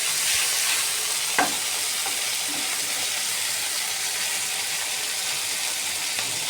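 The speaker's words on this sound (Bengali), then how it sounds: "আজকে মাছটা ভাজা করে পেঁপে দিয়ে রান্না করব" Teka fish frying in a pan, a steady close sizzle with a single sharp clack of a utensil early on and no talking.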